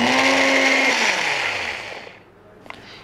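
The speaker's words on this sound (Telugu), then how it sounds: "ఇప్పుడు ఈ రెండు కలిపి బాగా ఫస్ట్ మనం మిక్సీ చేయాలి" A mixer grinder blends curd and shikakai powder into a paste with a loud, steady motor whine that winds down after about two seconds, followed by a few faint clicks.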